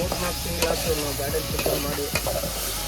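Food frying in a pan, sizzling steadily while being stirred, with repeated scraping strokes of the utensil, close up and loud and with no talk.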